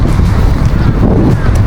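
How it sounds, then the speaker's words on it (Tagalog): Strong wind from a super typhoon buffets the microphone, a loud constant low rumble roaring for the whole stretch. "Pasensya na at medyo mahangin kasi ngayon, kaya medyo maingay."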